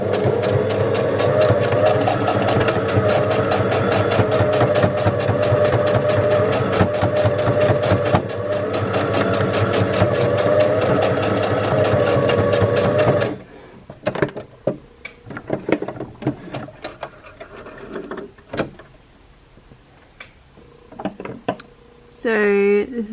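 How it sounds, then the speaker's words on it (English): A sewing machine stitches across fabric for about thirteen seconds as a fast, steady, close mechanical whir, then stops and leaves clicks and someone talking. "Now I'm just going to sew across here and down on the bottom."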